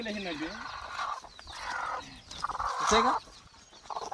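Free-range desi village hens raised by a grandmother cluck nearby in short, repeated bursts, with a few louder squawks mixed in and brief pauses between calls.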